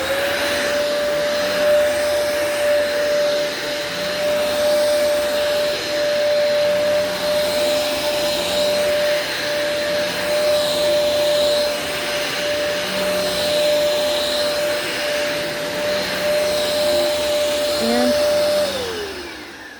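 A Eureka vacuum cleaner runs steadily and loudly with a constant motor whine and broadband airflow roar for the whole stretch, dropping in pitch near the end as it winds down.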